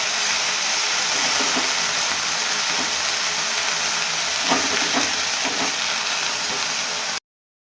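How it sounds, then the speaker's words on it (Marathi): Fenugreek leaves and green chili with garlic stir-fried uncovered in oil over a high gas flame, giving a steady, close, unbroken sizzle with soft stirring and no talk. "आणि आता ही भाजी आहे ना आपल्याला पूर्ण झाकण न घालता एकदा चांगली परतून घ्यायची तेलामध्ये."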